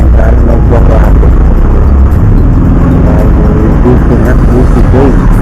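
Busy road traffic near SM Olongapo Central in Olongapo City, a loud, continuous rumble of engines and passing vehicles, with a person talking over it.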